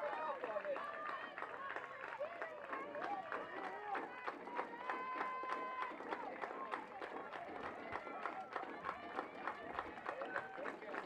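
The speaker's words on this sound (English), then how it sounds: "Rhythmic clapping from the NC State fans" Steady rhythmic clapping from NC State softball fans in the stands, evenly spaced claps under crowd murmur and a nearby commentator's voice.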